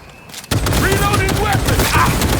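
Gunfire in Cyberpunk 2077 during a raid on the Arasaka Estate opens suddenly after a quiet moment, then rattles on as dense, loud, continuous bursts with faint voices mixed in.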